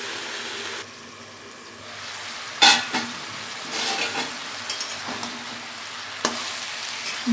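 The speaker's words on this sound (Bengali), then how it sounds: "ভালো করে কষাতে হবে।" Mixed vegetable curry being sautéed in a pan: a steady, close sizzle with occasional sharp scrapes and knocks of stirring, and no voices.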